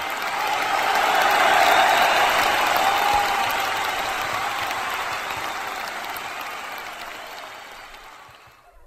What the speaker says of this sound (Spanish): Pido un fuerte aplauso para ellas.